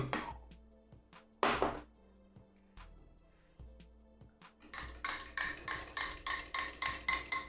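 Milk and melted butter being mixed for apple pie batter in a bowl: a few scattered clinks and knocks, then a steady run of quick, rhythmic utensil strokes, close and fairly loud, with no talking.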